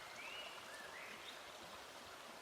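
Stream water running steadily past a clump of debris caught against tree roots, a continuous close wash of flowing water with faint high bird-like chirps above it.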